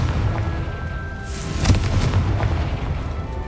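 A Confringo blasting curse from the Hogwarts Legacy video game bursts in a single deep, loud boom over a rumbling low backdrop, then fades into a rough, lingering roar.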